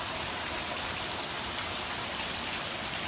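Heavy rain falls outdoors in flood-like conditions, a loud, unbroken wash of hissing and pattering drops with no one speaking.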